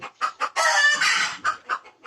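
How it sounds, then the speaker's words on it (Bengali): Crested native Bangladeshi hens clucking in a quick series of short calls, with a longer drawn-out squawk in the middle, close and clear. "এই খোপাওয়ালা বা ঝুটিওয়ালা মুরগিগুলোই বেশি ভালো লাগে"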